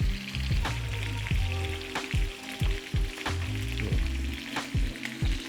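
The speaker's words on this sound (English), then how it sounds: "the fat from the bacon is starting to spit out of the frying pan" Chicken wings and bacon sizzle loudly in a frying pan, with bacon fat spitting and popping in sharp repeated crackles over a constant hiss, close up.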